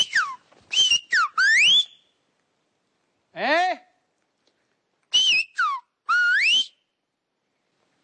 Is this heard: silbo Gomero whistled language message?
yes